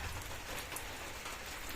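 Dense, steady rainfall hisses continuously, drops pattering on a hard surface close by.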